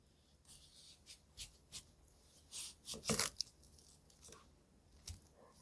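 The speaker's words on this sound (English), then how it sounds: "let's just see how it does on an onion. Again, I'll do a very thin slice." A freshly sharpened knife thinly slicing an onion on a board, a series of soft, quiet crisp cuts at an uneven pace, with a denser burst of crunching slices in the middle.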